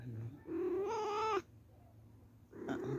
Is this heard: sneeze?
no